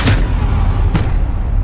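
Two loud booming gunshots from Call of Duty: Modern Warfare ring out about a second apart, heavy and close, over a constant low rumble.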